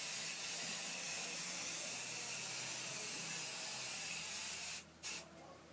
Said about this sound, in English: I'm going to spray all over the batting and apply the quilt top.